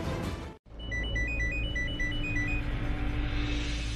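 A phone ringtone for an incoming call plays a bright, repeating electronic melody of short beeping notes over a low background hum, following a brief moment of silence.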